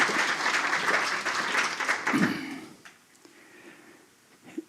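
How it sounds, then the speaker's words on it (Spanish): Audience applause for Don Ramón Carrilero before his lecture on the Diocese of Albacete, a full round of clapping that fades away after about two and a half seconds and leaves a quiet room with faint movement. "demos un fuerte aplauso a don Ramón Carrilero y su conferencia de la diócesis de Albacete"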